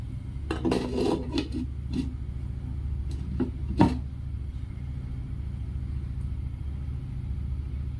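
A metal lid set onto a cooking pot of tomato chutney, a cluster of clattering knocks and scrapes early on, then a single sharp clank, over a low steady kitchen rumble.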